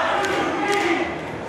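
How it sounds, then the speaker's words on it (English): Crowd chanting at an independent wrestling show in Hialeah, Florida, a loud, sustained rhythmic chorus of voices filling the venue without a break. "The crowd chanting, it's time to eat."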